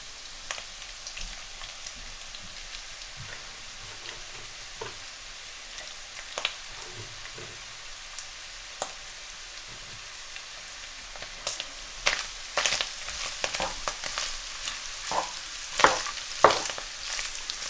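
Onions stir-fried with minced beef in a karahi over medium heat, a steady broad sizzle with scattered sharp crackles and spatter pops that grow busier toward the end, no voices.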